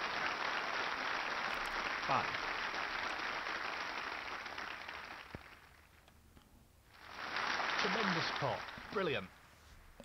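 Crowd applause in the snooker video game Snooker 19 on Nintendo Switch rises in two sustained bursts with a pause between them, while someone talks over the clapping.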